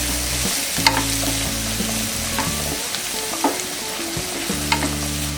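Vegetables with black pepper powder being stirred in a frying pan, with a continuous close sizzle and intermittent scraping and tapping of the utensil throughout.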